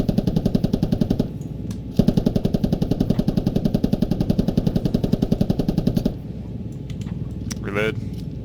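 A mounted machine gun on an attack helicopter in a multiplayer squad video game fires in long rapid bursts with a brief pause, loud and close over the rotor drone, then stops as the engine noise continues.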